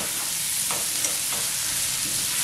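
Sliced black olives cook in a pan with a soft, even sizzle and a couple of faint stirring scrapes, fairly quiet and steady throughout, no voices.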